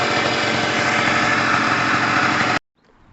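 A cold Pulse Force 50cc motorbike engine idles high with a steady, buzzing drone, close and loud, then cuts off abruptly, leaving near silence.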